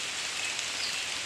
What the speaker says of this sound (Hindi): सुबह सुबह देखो ना, इतना बारिश हो रहा है